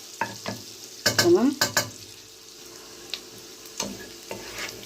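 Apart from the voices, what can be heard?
garlic cloves frying and being stirred in a granite pot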